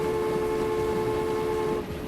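An 1850s European steam train in the Transport Fever simulation game gives off a steady mechanical rumble with sustained whistle-like tones that fade slightly near the end.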